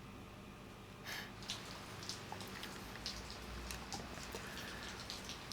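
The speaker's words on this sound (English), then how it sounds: "let's save it and start the rain." Light rain sound effect from the Foundry VTT Material Keys module patters steadily, with scattered sharper drops ticking over a soft background hiss.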